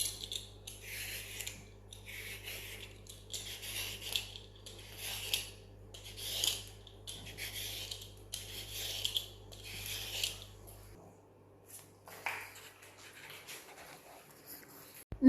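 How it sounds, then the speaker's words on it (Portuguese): Carrots being peeled for a marbled carrot cake, a steady run of rhythmic rasping strokes close by, then a brief pause and a few scattered scrapes near the end, no talking. "Eu agora vou começar a descascar as cenouras"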